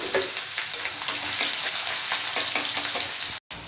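Onions drop into hot oil already holding cumin, red chilli and ginger, raising a loud, dense frying hiss that cuts out briefly near the end.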